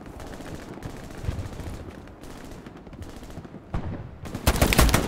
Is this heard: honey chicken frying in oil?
no